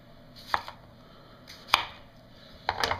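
A Kershaw Skyline ultralight pocket knife slices through material in three sharp, close cutting bursts, each a brief crunchy snap followed by a short rasp, with the last one breaking into a quick flurry of smaller cuts.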